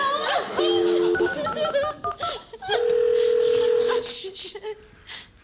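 Telephone keypad tones beep in a quick series of short steady pitches, then one longer held tone sounds, with laughter and studio audience noise around them in a comedy sketch.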